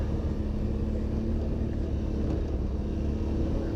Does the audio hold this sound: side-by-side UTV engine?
yes